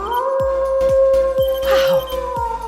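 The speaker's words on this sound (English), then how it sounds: "Wow, a wolf." A wolf howls in a long, steady, loud tone, with soft rhythmic thuds underneath and a brief yip partway through.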